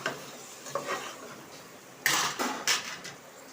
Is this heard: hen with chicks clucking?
no